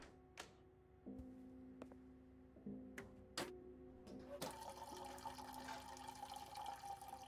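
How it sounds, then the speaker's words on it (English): A toilet flushes in the horror game Layers of Fear 2, water rushing and filling steadily after a few sharp clicks and taps, close and fairly quiet under a low musical drone. "I flushed the toilet"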